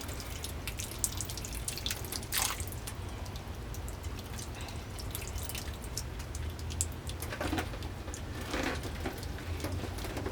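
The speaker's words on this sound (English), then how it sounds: "You see it's dropping in our drip tray." Water drips steadily from a freshly drenched Phalaenopsis orchid mounted on wood into a drip tray below, a continuous soft patter of drops with a few brighter splashes, fairly close and alone without talk.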